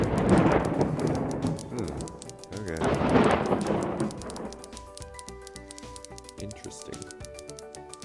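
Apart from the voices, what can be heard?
thunder and rain from a rain cloud in WorldBox video game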